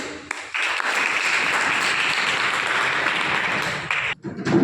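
Audience clapping at a college event in India, a dense sustained patter of many hands filling the room, steady for several seconds before breaking off and briefly resuming.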